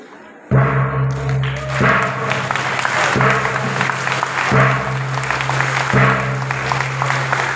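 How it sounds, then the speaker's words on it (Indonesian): Audience applause at a PKB party training ceremony for legislative candidates in North Sumatra, a loud sustained clapping crowd beginning suddenly after a brief quiet moment and continuing steadily with rhythmic thumping beats underneath. "kita beri tepuk tangan yang meriah"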